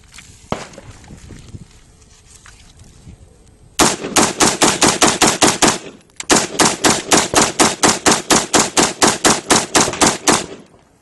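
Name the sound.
M16A4 rifle gunfire in the desert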